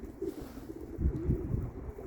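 Low, soft cooing from young pigeons or doves, several rounded coos repeating close by over a quiet background.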